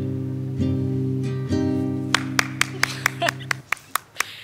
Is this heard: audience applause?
yes